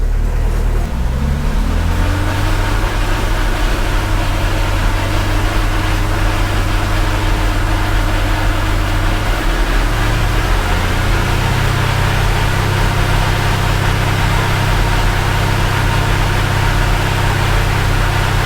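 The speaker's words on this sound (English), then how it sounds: "I'm gonna get in and give it some throttle myself." A car engine runs loudly and close throughout, a steady low rumble as throttle is applied, with a brief dip and change in pitch midway before settling again.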